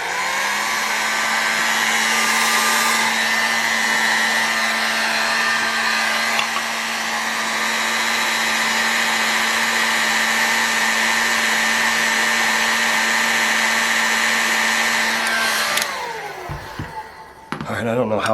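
A heat gun warms a part to free a bearing, a loud, steady high-pitched blowing whine with a constant tone that runs for about fifteen seconds before it is switched off and winds down.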